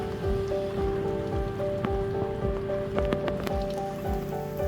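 Rain falls at Plaskett Creek Campground in Big Sur, a soft continuous patter on surfaces, with steady tonal sounds running underneath and no voices.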